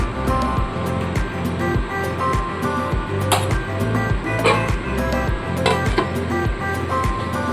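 Potol chingri curry of pointed gourd and prawns bubbling in a pan, a steady loud simmering gurgle with sputtering pops and occasional sharp clicks of a spoon or lid throughout.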